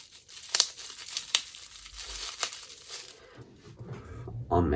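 Plastic or paper packaging of Apple Watch leather straps crinkles and tears in short bursts of rustling, fairly close, with soft handling noises between the louder crackles.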